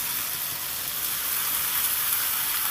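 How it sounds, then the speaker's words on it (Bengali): Spiced okra being stirred and fried in a pan, a loud, dense, unbroken sizzle at an even level. "ভালো করে একটু নেড়ে চেড়ে কষিয়ে নিলাম"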